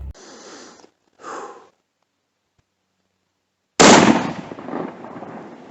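A single loud rifle shot during a whitetail deer hunt, a sharp blast trailing into a rumbling decay, preceded by short bursts of background noise and a pause of near silence.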